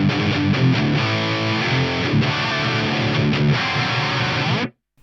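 Heavily distorted electric guitar played dry with no delay, dense chords ringing loud and sustained for about four and a half seconds before cutting off abruptly into silence.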